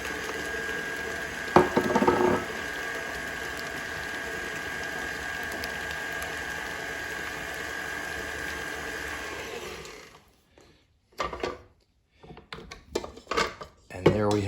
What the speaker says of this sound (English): we pour in a little bit, and then we wanna mix it for about 30 seconds